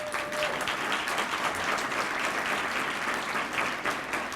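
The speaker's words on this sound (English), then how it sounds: "let's give Kevin Conwell and Footprints a big round of applause" An audience at an awards luncheon applauds steadily, a dense wash of clapping hands that holds throughout without a break.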